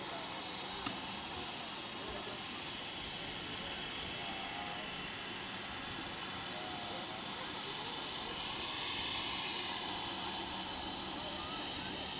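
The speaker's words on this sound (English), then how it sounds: "This particular aircraft started the day in Hamburg, flew from Hamburg to Paris and now on here to Manchester." A passenger jet flying at Manchester Airport, its engine roar a steady, moderately distant broadband wash that swells slightly toward the end, with faint talk underneath.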